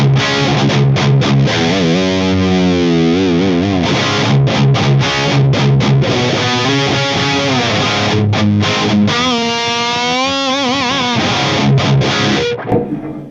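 An electric guitar plays loud and heavily distorted through a Mesa Dual Rectifier amp with EQ shaping, mixing sustained chords, bends and quick palm-muted chugs, with no voices present.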